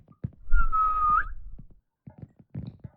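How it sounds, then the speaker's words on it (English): A character whistles in an Unreal Engine 5 game, a single sustained tone lasting about a second with a brief upward flick at the end, set between soft footsteps and light movement noises. "if I place the mine over there and make a whistle"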